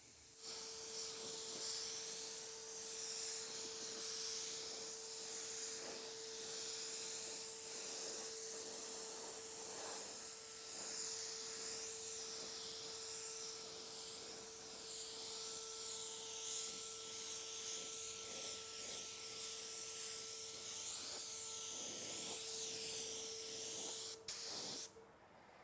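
A spray gun with a 1.3 tip and tack cap lays down a final coat of clear on a car: a steady, close hiss of atomized spray running almost unbroken, with brief pauses and a faint tonal whine alongside.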